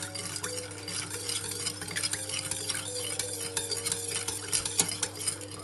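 A spoon stirs heating milk and sugar in a pot with soft scraping and light clinks, steady and close, over a low constant hum from the stove.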